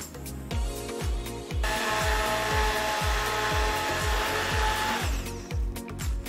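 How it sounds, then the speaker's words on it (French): A kitchen blender mixes a thickened fruit purée with xanthan gum for a strawberry cheese entremet, its motor whine rising into a loud continuous roar over rhythmic thumping pulses, then easing back near the end. "Nous allons de nouveau mixer."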